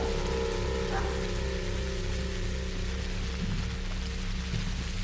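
Rain pours steadily through a dark, stormy night in the video game Pathologic, a dense unbroken patter under a low droning hum, with no voices.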